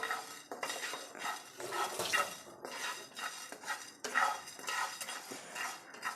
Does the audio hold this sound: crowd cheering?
no